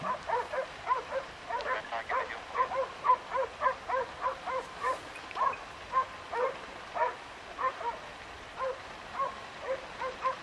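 Hunting dogs bark repeatedly during a wild boar hunt in Anatolia, a rapid, steady series of yips and barks, moderately distant, with a few whimpering sounds mixed in.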